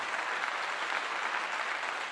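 Applause for a Colorado football player during a post-game gathering, a brief continuous wash of clapping, steady and moderately loud with no talk over it.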